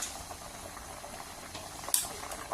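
A pot of Thai sour curry broth with bamboo shoots simmers at a rolling boil, soft continuous bubbling and popping up close, with one brief sharper clink near the end.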